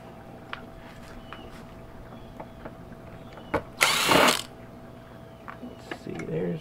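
A power tool whirs in one loud burst of about half a second, taking screws out of a Cisco ASA 5510 network appliance during a teardown. Scattered clicks and knocks surround it, and a person speaks nearby.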